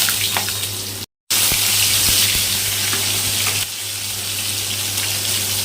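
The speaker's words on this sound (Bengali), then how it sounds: "ভালো করে ভেজে নিতে হবে শুকনো লঙ্কাগুলোকে কালো জিরা একটা কাঁচা লঙ্কা" Dried red chillies, nigella seeds and a green chilli fry in hot oil, making a loud, dense, continuous sizzle up close, broken once by a brief moment of silence, with no talk.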